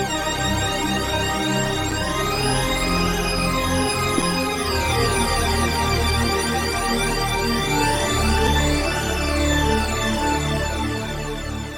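A Native Instruments Razor synthesizer patch called Holodeck plays a dense, continuous tone rich in shimmering harmonics, with sweeping filter motions rising and falling, steady and loud throughout with no voices.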